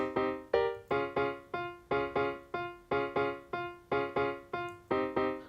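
Repeated plucked synth chords in a steady rhythm, each struck note decaying quickly, with the chord voicings shifting as the pattern repeats.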